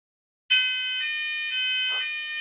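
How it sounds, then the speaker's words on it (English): A fire alarm suddenly starts and sounds continuously as a loud, steady, piercing electronic tone, with no talking over it. "there's a fire alarm, guys."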